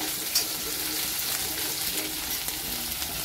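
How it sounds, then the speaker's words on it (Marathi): Green chillies sauté in oil in a pan while cooking a Maharashtrian tomato bhaji, giving a steady, close crackling sizzle that runs unbroken for the whole moment and then cuts off abruptly. "हिरव्या मिरचीला पण छान परतून घ्यायचं आहे"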